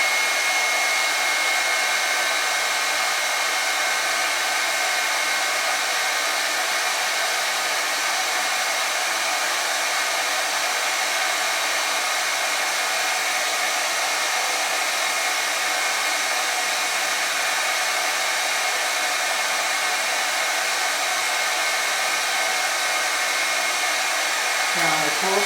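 A hair dryer set to low fan and high heat blows steadily for about twenty-five seconds, a constant close airy roar with no break.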